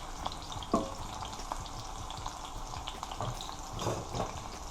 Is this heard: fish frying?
yes